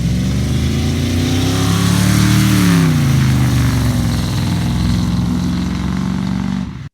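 Ford 302 small-block V8 in a 1966 Mustang revs up and settles back, a loud, close rumbling engine sound alone for several seconds before cutting off.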